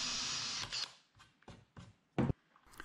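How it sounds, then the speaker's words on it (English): A brief burst of high whirring from a power drill, then several short grinding pulses as the bit bites in, close up, deepening a stripped screw hole in a kitchen cabinet. "I'm going to drill the hole deeper to accept more of the plastic line."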